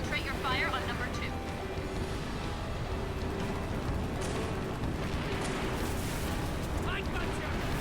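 Weapons fire and explosions during a Scarab battle in Halo Infinite form a constant heavy roar with booms and crackling shots, while voices talk over the din throughout.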